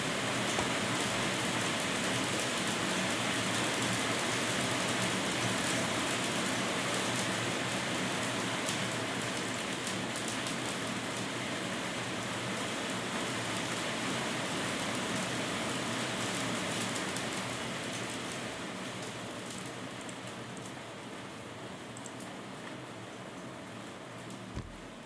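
A hailstorm pounding down in a thick, continuous roar of impacts that holds steady before easing slightly toward the end.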